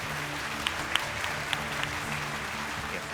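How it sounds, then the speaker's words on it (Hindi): An audience welcomes a guest to a panel discussion with steady applause heard at a distance under a low hum, with a few sharper claps standing out. "मैं दावत देना चाहूँगा आप सबकी भरपूर तालियों में लारेब खालिद आएँ"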